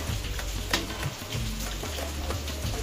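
Mixed vegetables sizzle and fry steadily in masala gravy in a biryani pan: carrots, fresh green peas, cauliflower and capsicum. The crackle is close and continuous, with a few soft stirring knocks and no talking.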